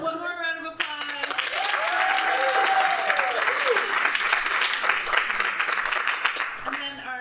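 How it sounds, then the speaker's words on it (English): Theatre audience at a new works festival breaking into a round of applause, a full, sustained burst of clapping that swells and then fades, with a voice heard briefly before and after. "one more round of applause"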